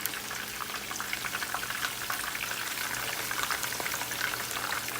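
Food frying in an uncovered pan, a continuous crackling sizzle with fine popping spatters, steady and close, with no talk.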